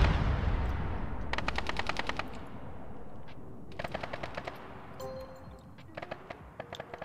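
Machine gun fire in Arma 3, CSAT Malden Ops, several rapid automatic bursts with sharp repeated cracks, separated by short pauses over a rumbling battle background.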